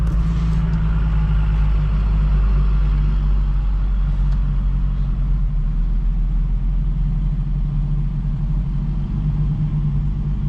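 At a dispersed campsite in Flaming Gorge NRA, a vehicle engine rumbles steadily and loudly nearby, a low continuous drone with no break.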